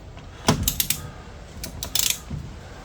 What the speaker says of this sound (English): Then we do the nut up